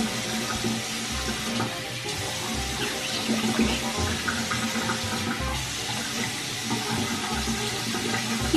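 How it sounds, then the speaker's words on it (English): Water runs steadily from a bathroom sink tap during face washing, a continuous close splashing rush with small fluctuations and no talk. "Babe, you about to wash your face?"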